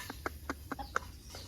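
Chickens and chicks peep and cluck in short, evenly spaced calls, faint and somewhat distant, with about six brief chirps over low background noise.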